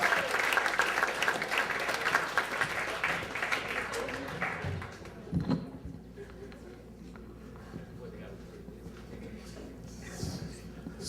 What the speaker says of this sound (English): Clap for Marc.